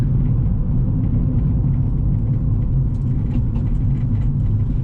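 A turbocharged Honda Civic EK with a D16Y4 engine drives unregistered around the block in Mexico, heard from inside as a steady, loud low rumble of engine and road noise with no speech.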